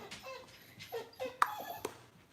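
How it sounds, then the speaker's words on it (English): A dog whines and whimpers softly in short high-pitched bursts, a few sharper yips standing out against a quiet room. "If you hear a little whining in the background"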